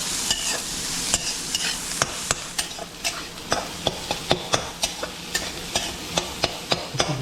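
Onions and cabbage stir-fried for homemade chowmein, a steady sizzle with sharp, regular scrapes and knocks of a spatula against the pan, close and fairly loud, with no talking.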